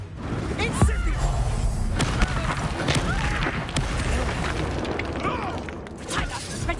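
An Incendio fire spell bursts in the wizarding video game Hogwarts Legacy amid busy combat, with loud booms and thuds layered over a dense stream of effects.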